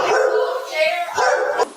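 Near and loud, a Shar-Pei mix dog barks in quick bursts with yips and whining during a police bodycam house visit, several barks in a row.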